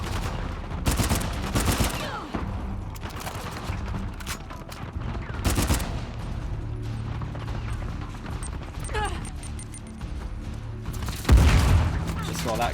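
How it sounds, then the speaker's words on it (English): Bursts of gunfire from an enemy shooter in Uncharted: The Lost Legacy, sharp broadband cracks in clusters with a loud blast near the end, over game ambience and a talking voice. "I cannot see where this other guy's shooting from."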